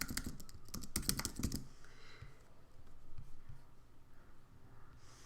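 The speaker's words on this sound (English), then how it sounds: "you can just type in your URL here." Quick bursts of keystrokes on a computer keyboard tap out a URL, a close, quiet clatter for over a second before fading into faint room noise.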